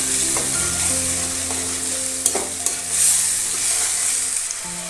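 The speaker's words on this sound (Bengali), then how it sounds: "ভালো করে কষিয়ে নেব।" Onion paste and ginger paste being sautéed for a Bengali boal fish curry, with a steady loud sizzle of frying and occasional stirring scrapes and clinks, no voices.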